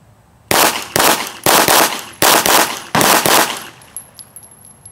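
A Walther PK380 pistol fired rapidly at a shooting range: five loud, sharp shots in quick succession, each with a short ringing tail, followed by faint clinks and quiet.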